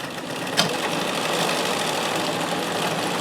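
A vintage sewing machine running a stretch stitch cam at a short stitch length, giving a steady, fast mechanical whirring hum with one sharp click near the start.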